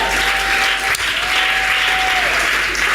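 A church congregation applauding loudly and steadily throughout, dense clapping filling the space, with a faint sustained tone from instruments underneath.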